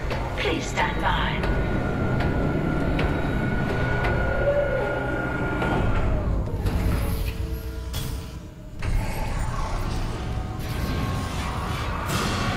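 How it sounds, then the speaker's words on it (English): Damaged tram car moving in the sci-fi horror game Dead Space remake, a long rumbling rail ride with metallic screeches and tonal whines, sharp clanks near the end, and a voice talking over it at times. "Replacing damaged tram car. Please stand by."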